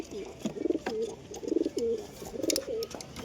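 Domestic pigeons coo in a loft, a pair of Giribaz and Matraj birds, with repeated low rolling coos in three close bursts over faint background noise.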